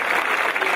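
A church congregation claps for God, a loud, dense burst of many hands in continuous applause with no voices over it.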